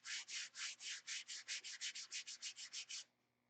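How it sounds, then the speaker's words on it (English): About sixteen rhythmic back-and-forth strokes of hand sanding rasp against a car body before paint, close and even-paced, then stop. "So when you're sanding, you're just stepping down from scratch to scratch."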